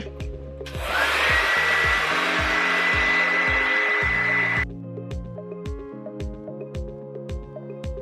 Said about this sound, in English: Lightest hair dryer you will ever find in your life.